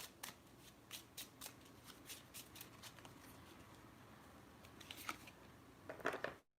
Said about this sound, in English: Let me pull one from the Island Time Wellness cards here.